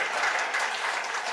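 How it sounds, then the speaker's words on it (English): A crowd applauding at a gathering, a dense steady wash of clapping hands heard at moderate distance, with no talk over it. "A round of applause as he goes back."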